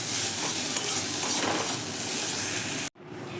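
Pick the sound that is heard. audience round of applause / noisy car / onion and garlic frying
onion and garlic frying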